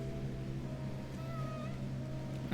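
A faint, thin cat meow rises briefly midway through the video game Heartworm, sitting low over a steady droning game soundtrack.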